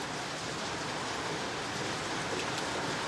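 Heavy rain pours down in a dense, even hiss, loud and close, with no breaks across the short stretch.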